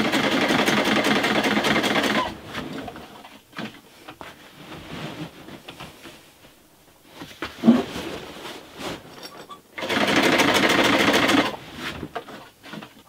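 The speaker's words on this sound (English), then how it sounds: "I'm now going to sew on the front panel." A sewing machine runs in two steady bursts stitching a canvas tent's front panel onto the roof, with quieter handling and fabric shuffling between the loud, even whirring runs.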